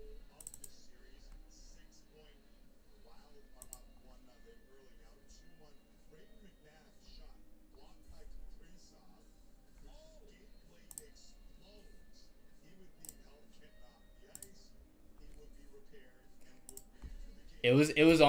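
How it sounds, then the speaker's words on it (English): Clicky computer keyboard being typed on, faint irregular clicks scattered throughout at low level, with a louder burst at the end. "Yeah, it's a super clicky keyboard."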